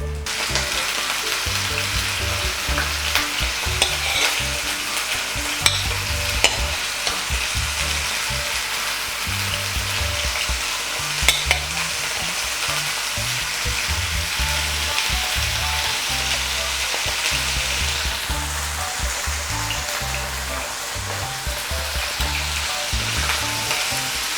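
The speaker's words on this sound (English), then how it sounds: "You're going to put in your sausages." Sausages frying in two tablespoons of hot oil in a pan, a steady dense sizzle and crackle that holds evenly throughout with occasional small pops, close and loud with no talking.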